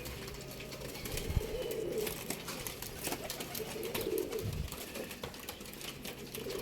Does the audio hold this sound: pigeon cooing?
yes